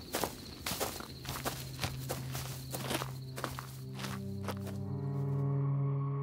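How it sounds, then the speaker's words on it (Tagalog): Footsteps crunch steadily through a wooded area, a brisk series of close, fairly loud steps, with a low droning hum rising underneath toward the end. "Habang naglalakad kami sa kakahuyan"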